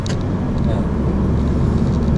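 A Mitsubishi Lancer's engine drones low and steady from inside the cabin while driving with paddle shifting, a continuous rumble without sharp rev spikes.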